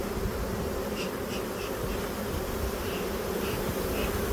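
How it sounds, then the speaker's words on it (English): Honey bees buzz around a hive being split three ways, forming a dense, continuous drone with a few sharper individual wingbeats passing close by, and no talking. "Now the bees are back."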